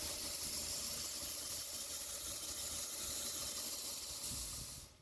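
A knife made from ball-bearing steel is ground on a 1200-grit belt grinder, producing a steady, even hiss of abrasive against metal that holds constant for several seconds before cutting off, with no talking.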